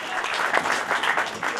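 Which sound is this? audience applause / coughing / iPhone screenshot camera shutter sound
audience applause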